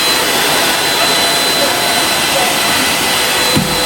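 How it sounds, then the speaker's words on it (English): A vacuum cleaner runs steadily across a floor, a loud, continuous whining roar held close for the whole stretch with no pauses. "And I'm not mopping, I'm just vacuuming."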